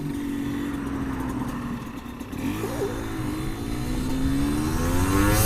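A Yamaha TDR 125 motorcycle accelerating on an expressway, its engine note climbing loudly and steadily from up close, with wind rushing over it.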